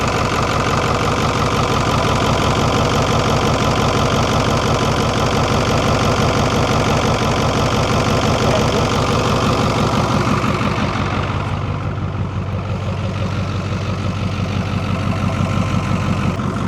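A Ford D1000 truck's Cummins V8 diesel runs close and loud, a steady knocking idle with dense rhythmic clatter that eases slightly in intensity partway through.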